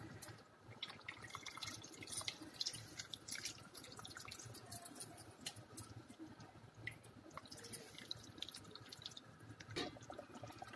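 Tamarind is squeezed by hand in a bowl of water, soft close squelches and drips repeating irregularly at a faint level, with no speech.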